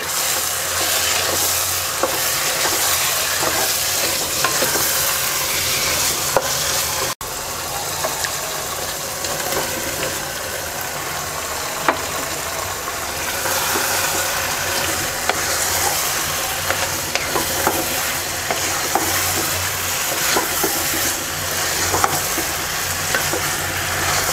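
Fried cauliflower is tossed into a pan of cooking meat, producing a loud, continuous close sizzle with scattered clicks and scrapes of stirring throughout.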